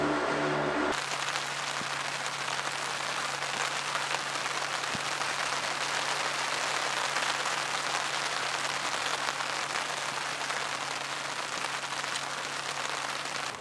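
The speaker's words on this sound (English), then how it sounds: "It's been raining for the last couple hours, so I've just been sitting under the tarp" Steady rain patters on a tarp close by at a campsite, a dense hiss of drops that stays constant throughout with no voices.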